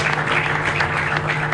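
An audience at a youth event in the Democratic Republic of Congo applauds, giving a brief, dense burst of clapping over a low steady hum, with no words spoken.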